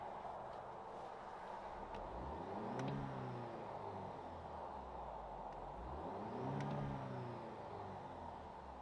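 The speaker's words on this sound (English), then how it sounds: "Let's just see if we can hear the engine sound enhancement that they give us" A 2020 Alfa Romeo Stelvio Ti Sport Carbon, with engine sound enhancement, revs twice in quiet succession, each rise and fall of pitch smooth and faintly whiny, heard fairly low from inside without anyone talking.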